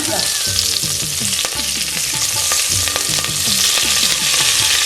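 Curry leaves dropped into hot oil over a sardine curry in a pressure cooker sizzle loudly and steadily, with rhythmic stirring scrapes running through the whole stretch and no voices.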